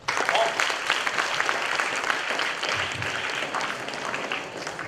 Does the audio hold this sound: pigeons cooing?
no